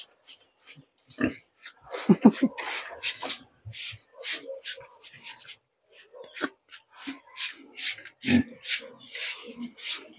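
A brush scrubs repeatedly over fattener pigs, giving rhythmic bristly rubbing strokes that come in bursts with brief gaps, close to the microphone, with occasional soft grunts and snorts.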